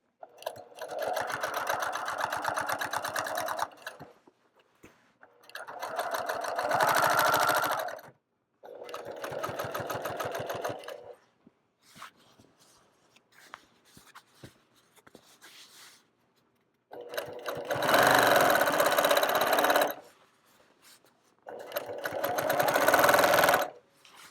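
A sewing machine stitches outside the ditch on a quilt in close, steady runs of rapid mechanical whirring, five bursts separated by quiet pauses.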